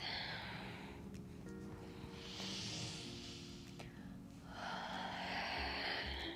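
Deep, slow breaths during a seated stretching exercise, two long airy exhalations separated by a quieter pause, close and clear with no talking.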